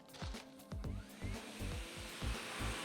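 An AVA Smart P60 pressure washer runs steadily, its motor giving a loud continuous whine with a regular pulsing pump rhythm, close by and without talk.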